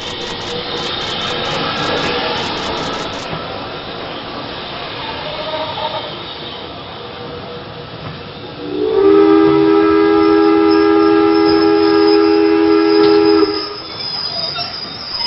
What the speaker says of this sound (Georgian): ორი დღის ჯახირის შემდეგ მატარებელი ბათუმში ჩავიდა.